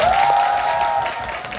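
Audience applause at an H.O.T. fan meeting, a brief burst of clapping from the crowd that fades slightly toward the end, with a sustained tone sounding over it.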